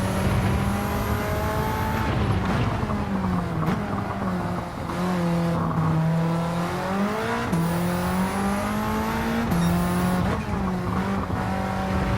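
A Mitsubishi Evo race car in Gran Turismo 7 laps Tsukuba, its engine revving loud and steady through rising and falling gear changes, with tire squeal at corners and no talk.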